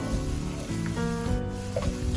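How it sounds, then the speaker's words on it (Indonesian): Coarsely blended green chilies hit the pan and sizzle steadily, a close, continuous frying hiss with a few soft scraping stirs through it, cooking for chicken sambal ijo; no talk. "Kita masukkan cili hijau atau rawit hijau yang udah saya blender kasar."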